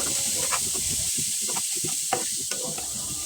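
Onions fry in a pan with a steady bright sizzle, broken by soft stirring scrapes and small clicks, close up with no voices.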